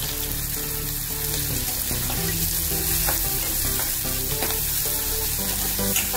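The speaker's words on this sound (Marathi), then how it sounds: "कढीपत्ता थोडा घालायचा, कांदा घालून घ्यायचा।" Onion and curry leaves fry loudly in hot oil for mulyachi bhaji, a dense, steady crackling sizzle with occasional stirring clinks throughout.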